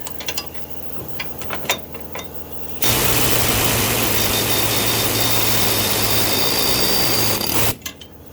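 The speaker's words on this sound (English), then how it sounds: "So we're going to go ahead and just use this air chisel instead." A loud, steady air chisel roars continuously for about five seconds while removing parts from a Craftsman riding mower transaxle, preceded and followed by brief clanks and clicks.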